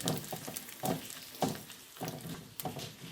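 Urad dal, dry chilli pieces and asafoetida frying in hot oil for a tempering, with a steady crackling sizzle and a few soft stirring scrapes, close and alone.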